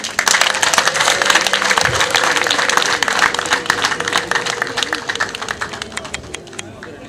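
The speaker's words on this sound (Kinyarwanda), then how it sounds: "nagira ngo mumfashe muhaba abantu amashyi n'impundu." At a Rwandan engagement and dowry ceremony, a crowd breaks into loud applause mixed with high ululation, the clapping thick at first and slowly thinning toward the end, with some voices in the background.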